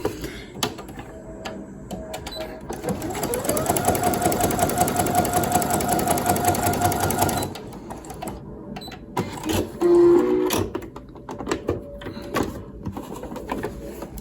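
Sewing machine fitted with a walking foot running a steady, faster stitching pass for a few seconds, a continuous loud mechanical whir that starts and stops, with quieter handling noises before and after.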